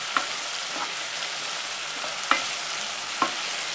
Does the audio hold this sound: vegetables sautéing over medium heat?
yes